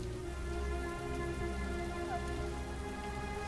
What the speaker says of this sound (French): Oh non, il pleut maintenant.